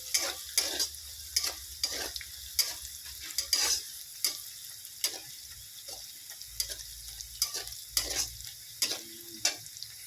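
Onions fry in oil with salt under a soft background sizzle, while a spatula strikes the pan in repeated sharp scraping and tapping strokes at an irregular pace. No voices.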